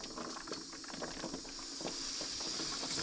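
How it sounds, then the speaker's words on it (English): Deer meat jars boiling inside a pressure canner, a steady close hiss of steam with faint bubbling crackle that swells slightly louder toward the end, no voices. "And you can hear it boiling in there."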